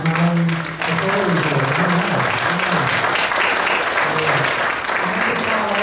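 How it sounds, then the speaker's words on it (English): A church congregation at a Saturday night service applauds steadily and loudly for the full stretch, a dense wash of clapping with a sustained tonal hum and some voices running underneath. "Let's applaud the man of God who is now in authority."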